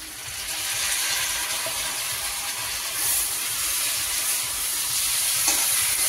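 Ginger and green chili paste, hand-ground on a grinding stone, frying in a pan for a light fish curry, a continuous close sizzle and hiss with occasional spoon scrapes as it is stirred, no talking.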